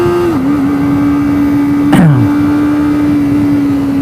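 A Kawasaki Ninja ZX25R hums along steadily at moderate speed, loud and close, broken once midway by a sharp auto-blipper rev burst and a quick falling pitch before the steady drone resumes.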